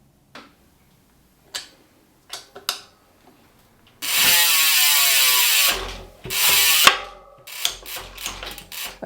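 Bolts being tightened on a bicycle brake caliper and adapter during a street trials bike build, with scattered clicks and a ratcheting tool's rapid rasping bursts, close and clear, with no talking.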